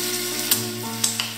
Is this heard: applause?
no